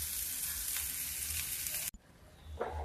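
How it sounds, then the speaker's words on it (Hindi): Ginger frying in a pan of moong dal tadka over a low flame: a steady close hiss and sizzle that cuts off abruptly, then resumes more faintly with a brief stirring scrape. "ये इसी में अदरक भी डाल देते हैं, भून जाएगी अदरक।"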